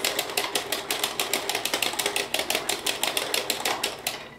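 A hand-cranked Singer knitting machine clatters in a fast, steady mechanical rhythm of sharp, evenly spaced clacks, close and loud with no talking.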